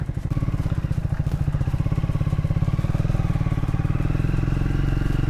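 A motorcycle engine chugs loudly and close in a fast, even pulsing rhythm as the bike is turned around on a mountain road trip near Bumla Pass.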